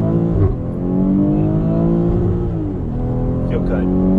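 A BMW X3 M40i accelerates on the road with passengers aboard, a loud steady engine drone heard from inside the cabin that climbs slightly in pitch.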